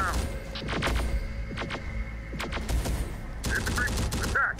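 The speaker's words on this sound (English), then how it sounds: "There's gunfire." Gunfire crackles in the video game Terminator Dark Fate as infantry units fight Legion troops, with rapid bursts of shots and a denser volley near the end, sitting under a steady game backdrop.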